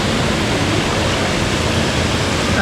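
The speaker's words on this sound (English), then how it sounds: "Bit of a waterfall there." A waterfall at Behana Gorge in Far North Queensland gives a loud, steady rushing roar that runs unbroken and fills the scene, with no voices.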